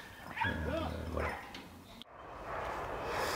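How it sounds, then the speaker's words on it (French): A Petit Munsterländer hunting dog barks and yips in a short burst as it starts to bay on a scent during a big-game drive hunt, fairly distant, followed by outdoor background noise. "on entend Orion derrière qui est en train de commencer à mener, qui vient de trouver"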